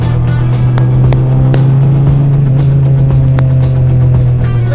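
A BAC Mono sports car's engine drones steadily and loud from inside the cockpit while driving, a strong low hum with a constant rumble and no talking.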